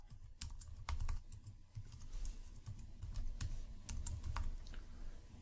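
Rapid typing on a computer keyboard to fill out a contact form, quiet close-up clicks of keystrokes in irregular bursts with a faint low background hum, no talking.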